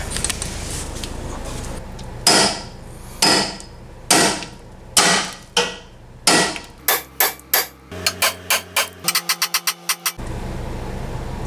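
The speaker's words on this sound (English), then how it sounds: "Let's see if we can hit it with something heavy." Heavy hammer blows on a rusty ball joint resting on stacked steel, ringing out, slow at first then speeding into a rapid string of sharp strikes before stopping.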